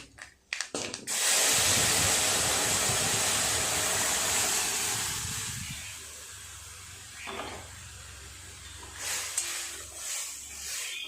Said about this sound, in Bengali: ফোড়নটা হয়ে গেছে, ডালটা ঢেলে দেব।